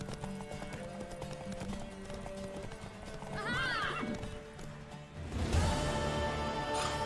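A horse's hooves clip-clop rapidly in a gallop in the video game The Witcher 3, and it lets out a loud whinny; a voice exclaims briefly over the hoofbeats.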